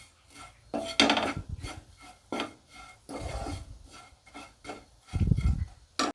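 Fried kunafa pastry being stirred together with condensed milk in a pan, giving close, irregular scraping and rubbing strokes of a utensil against the pan, with louder bursts of scraping between quieter pauses.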